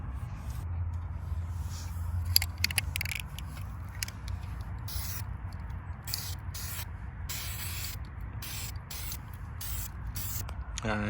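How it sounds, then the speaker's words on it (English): High heat primer hisses from an aerosol can onto Brembo brake calipers in a series of close spray bursts, some short and some sustained, with brief pauses between passes. "Next step after it's all sanded down is to get this high heat primer on"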